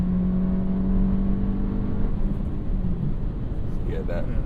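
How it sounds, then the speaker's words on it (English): A car engine revving and then holding its revs as they slowly fall, a steady droning hum with a sustained low tone that eases downward, heard from inside the car under a constant loud roar. "A little bit of rev hang"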